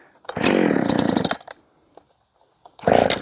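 A Redmax 621 chainsaw with the choke on sputters briefly after a pull, a loud close burst of about a second that dies off, then a short quiet gap before a second pull starts it roaring again.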